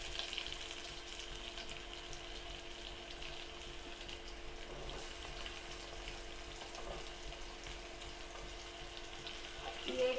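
Onions frying in a pan give a soft, even sizzle that holds steady throughout, faint with light stirring noises now and then.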